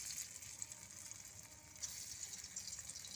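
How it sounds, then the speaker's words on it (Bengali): Pieces of dhoka, Bengali lentil cakes, frying in hot oil, giving a steady close hiss and crackle that carries on without a break and with no talk. "এবার পিস পিস করে নিয়েছি, এইগুলোকে ভেজে নিচ্ছি।"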